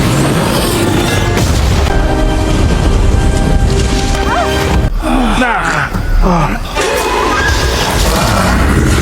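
In the 2025 Anaconda film, a huge explosion finishes off the giant snake. The loud, rumbling blast and debris fill the scene, followed by cracking, splintering wreckage and scattered gasps and voices.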